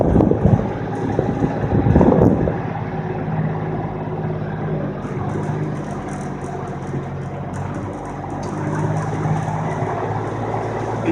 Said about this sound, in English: So right now I'm driving on mud and stone.